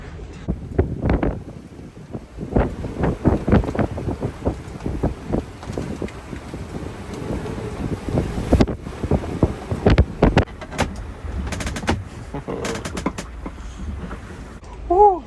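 Strong gusting wind buffets a sailboat pitching through waves at sea off Monopoli, Italy; loud, uneven roaring bursts and rushes dominate, with brief voice sounds mixed in.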